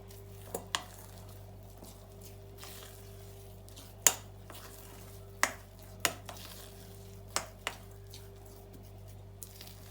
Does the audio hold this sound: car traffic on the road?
no